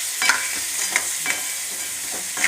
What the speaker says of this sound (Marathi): चिंबोऱ्या चांगल्या परतून घ्यायच्या वाटणात.